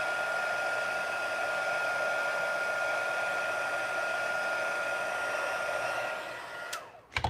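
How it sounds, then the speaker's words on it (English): Heat gun blowing hot air for heat embossing on a stamped card, a steady loud whining blower drone that holds for several seconds and then abruptly cuts off near the end. "Heat embossing is my absolute favorite thing to do."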